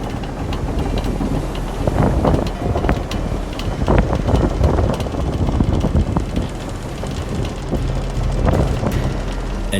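Strong, steady wind blows over water near a moored sailboat, with loud gusting buffeting and rumbling microphone wind noise throughout.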